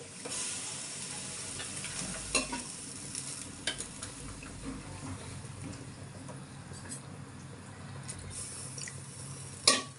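Butter chicken gravy bubbles and sizzles steadily in a pan, with occasional sharp clinks of a spoon stirring against the metal, close and alone without any voices.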